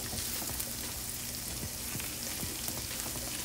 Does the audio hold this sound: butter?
yes